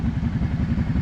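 A Kawasaki Brute Force 650 ATV engine idles steadily nearby, a low, even, rapid thumping pulse with a light mechanical clatter.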